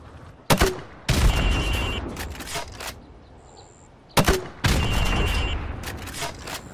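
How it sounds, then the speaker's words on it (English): Grenade launcher fire in Call of Duty Modern Warfare Remastered on PS4 comes as two loud, sharp blasts several seconds apart. Each is followed by a sustained roar of explosion and debris. "Now pop a grenade into windows 5, 6, and 7."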